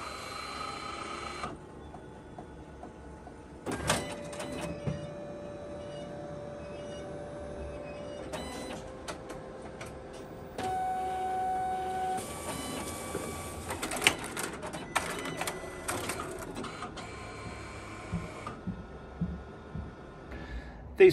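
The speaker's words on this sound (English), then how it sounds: "These printers here are used for printing little sort of holiday snaps and little 6x4s and things like that, and they make quite a wicked sound" A small photo printer runs a job, printing a 6x4 holiday snap: whirring feed motors, clicks and shifting mechanical tones that change in stages over about twenty seconds, close and moderately loud, with no talk.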